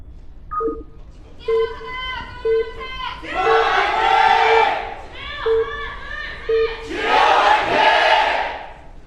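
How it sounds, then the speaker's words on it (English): Crowd in an esports arena at a StarCraft II playoff final cheers in loud surges between rhythmic chant-like bursts and tonal beeps, swelling twice to full roars. "Lots of cheering here for the Jin Air Green Wings."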